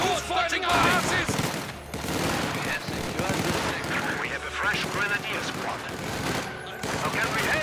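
Machine-gun fire in Company of Heroes 2 on the Rzhev Summer map, dense rattling bursts mixed with other gunfire and battle noise, with voices heard throughout.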